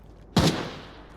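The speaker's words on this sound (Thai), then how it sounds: "มีเสียงยิงปืนแล้ว" A single sharp gunshot in the video game Arena Breakout Infinite bursts out suddenly, loud and close, then decays into a short ringing tail against quiet background.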